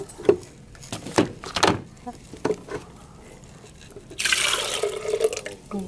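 Coconut water from a freshly opened coconut, heard as scattered patters and drips, then a brief louder splashing pour near the end; close and fairly quiet, with light talk nearby.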